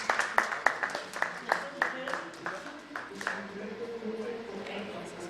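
Audience clapping at an education summit, a run of distinct claps that thins out and fades as a voice starts speaking over it.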